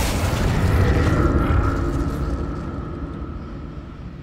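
The Incendio fire spell in Hogwarts Legacy erupts as a loud, heavy whooshing boom that swells, then rolls away and fades over several seconds, with no talk.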